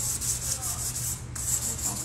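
Hand-sanding a chalk-painted vintage dresser, with short rhythmic back-and-forth rasping strokes of sandpaper on painted wood, close to the microphone and alone, pausing briefly near the middle.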